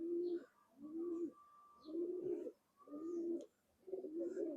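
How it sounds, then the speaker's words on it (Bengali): An old Khulna breed pigeon with yellow eyes coos close by in four soft, throaty phrases separated by short pauses, with a few faint chirps between them. "এটা হচ্ছে আমাদের খুলনার পুরাতন ব্রিডের চোখ হলুদ কবুতর"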